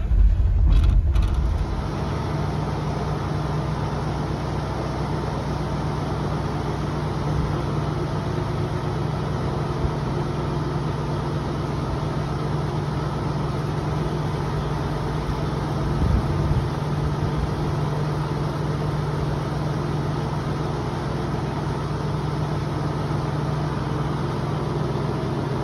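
A Lada Zhiguli engine idling fully warmed up on A-100 petrol, a steady low running drone holding evenly throughout with a slight irregular knock, alone with no talk.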